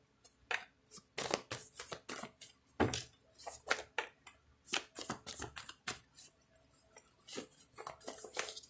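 Tarot cards being handled and shuffled by hand, a series of quick riffling and slapping bursts in an uneven rhythm, close and fairly quiet, with no speech over them.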